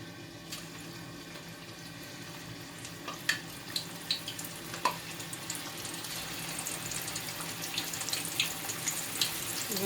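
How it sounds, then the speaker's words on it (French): Meatballs dusted in flour dropped into heated oil, a faint steady hiss with scattered crackles and pops that grow more frequent toward the end, quiet and without talk. "On va frire notre boulette"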